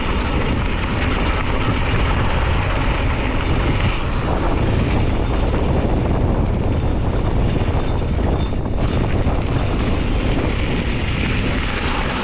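Steady, loud rumbling wind buffeting the microphone, constant throughout with no voices, like air rushing past while moving.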